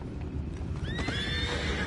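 A horse in a video game gives a loud, close whinny that rises and trails off over a steady patter of hooves, all within a couple of seconds and with no voices.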